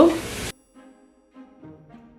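Curry leaves dropped into hot oil for a Jaffna-style cassava milk curry give a brief, loud burst of sizzle that cuts off abruptly, followed by a person talking.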